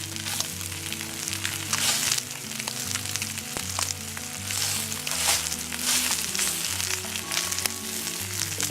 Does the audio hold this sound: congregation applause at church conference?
no